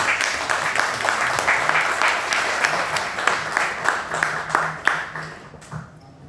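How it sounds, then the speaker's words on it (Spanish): Audience at a literary event with authors Patricia Colchado and Luis Alonso Cruz breaks into applause for a guest named Jorge, dense clapping with sharp individual claps standing out, tapering off near the end, a voice briefly heard beneath. "Si pueden darle un aplauso a Jorge"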